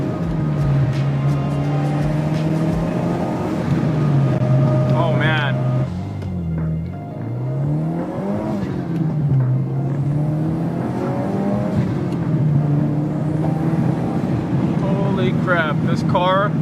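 A Subaru WRX engine, with a misfire fixed and bracing installed, accelerates hard on a test drive. Its loud, close drone climbs in pitch, drops at gear changes, and climbs again, with wind noise throughout.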